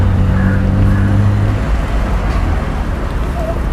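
Car engine running steadily while driving, a continuous low rumble with road noise filling the cabin, loud and constant throughout with no talk.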